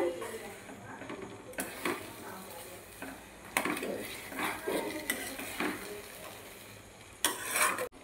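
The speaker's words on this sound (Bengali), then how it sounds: "এইভাবে আস্তে আস্তে নাড়তে নাড়তে দেখবেন একদম ঘন হয়ে আসছে।" A spoon stirs thickening semolina halwa in a pan, giving soft repeated scraping and clacks against the metal at an uneven, unhurried pace, close by and fairly quiet.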